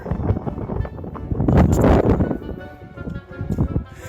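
Gusty wind buffets the microphone on a cold mountain trail high in the Colorado Rockies, a loud broadband roar that surges and eases across the whole stretch with no other sounds.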